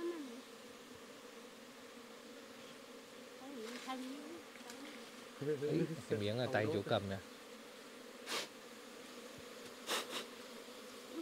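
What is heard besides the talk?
bees buzzing around a honeycomb nest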